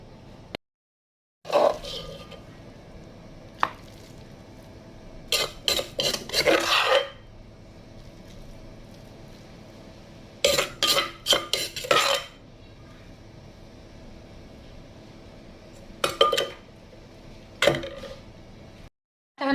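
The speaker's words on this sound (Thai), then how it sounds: "ตักใส่ชาม" A utensil scrapes and scoops grilled catfish chili paste into a bowl, with several short bursts of rasping, clinking strokes separated by quiet pauses, close and fairly loud.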